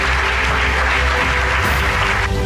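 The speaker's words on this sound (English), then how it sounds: "I want to just give them a big round of applause" An audience gives a round of applause at a talk event, a dense, even patter of clapping heard for a couple of seconds at moderate level with a faint hum beneath.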